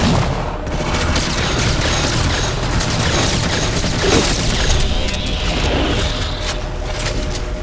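Rifle gunfire in the video game Halo 4, a dense continuous barrage of shots and explosions layered under loud battle noise, sustained without pause across the whole stretch.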